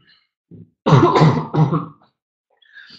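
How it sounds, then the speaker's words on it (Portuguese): A short burst of close, harsh coughing, two or three rough hacks in quick succession, with a faint small sound before it. "Peraí que eu vou precisar tossir e muito."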